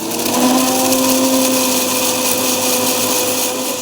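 A mixer grinder grinds dried chillies with salt, giving a loud, steady motor whine with a constant high-pitched hum that runs without a break, close up and with no talk over it.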